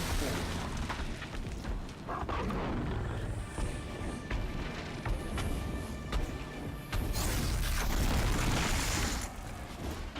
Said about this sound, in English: this thing's just exploding in the air